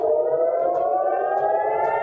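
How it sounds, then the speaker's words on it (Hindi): Civil defense air raid sirens wail across central Israel after a ballistic missile launched from Yemen, a loud, steady, sustained tone with slight pitch drift and no voices. "रविवार तड़के 6:30 बजे इजराइल में सायरन बजने लगे"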